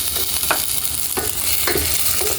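A pan of odong noodles with sardines, garlic and tomato is stirred over a loud, constant sizzle, with a few spoon scrapes punctuating the frying hiss; no talking.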